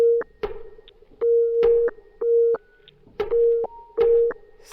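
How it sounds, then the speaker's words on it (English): Tape sample played back slowly in a sequencer wheel, heard as repeating clave-like pulses: sustained mid tones interleaved with sharp clicks in an uneven looping rhythm, clear and upfront with no voices. "this tape sample is being read much slower because the duration of the wheel is much bigger than it was before"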